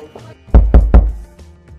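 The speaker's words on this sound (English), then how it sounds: "So I hear a knock at the door." Three firm, evenly spaced knocks on an apartment door, loud and close with a deep thud, followed by quiet room tone.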